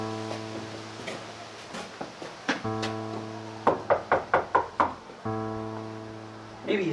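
Knocking on the door of an old villa: a few scattered knocks, then a quick run of about six firm raps, heard over a sustained musical backing.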